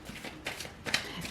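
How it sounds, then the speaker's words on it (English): Tarot cards shuffle by hand in several quick, crisp bursts of riffling, close up and fairly quiet, with no voice during the shuffling. "Let me shuffle these a bit."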